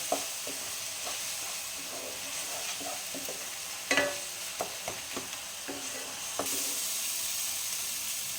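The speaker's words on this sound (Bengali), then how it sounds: "এটাকে একটু ভালোভাবে ভেজে নিতে হবে" Dhaba-style paneer masala with ground coriander frying in a pan, a soft steady sizzle with spoon scrapes and taps while stirring, then a louder burst of hissing near the end, with no voices.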